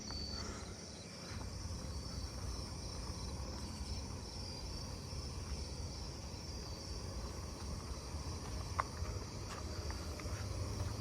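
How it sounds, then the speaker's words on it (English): A jumping bush cricket chirps outdoors in a neighbourhood at night, a faint steady insect trill running continuously and alone against a low background hum, with a few scattered soft ticks. "Jumping bush cricket."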